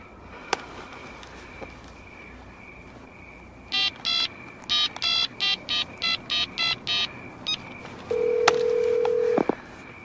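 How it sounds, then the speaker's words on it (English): A home telephone dialed in a drama: about ten quick keypad tones in an uneven run, then a sustained electronic ringing tone on the line, with no speech. "Dial him up."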